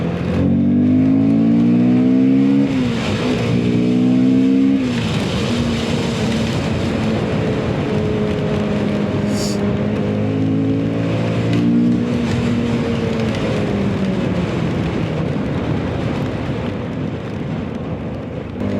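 Car with a CVT transmission driving through Exeter city streets, a steady engine drone with smooth rising and falling pitch as it accelerates and eases off, heard from inside the car.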